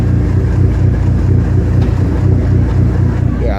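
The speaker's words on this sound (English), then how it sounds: "Yeah, that's the clutch chattering." An SRT4 car's clutch chatters with a low, rapid, fluttering rumble that stays loud and constant at close range under engine noise, with no talking.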